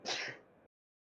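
A single short sneeze-like burst, close and fairly loud, lasting about half a second before cutting to silence, heard during a tabletop role-playing game session.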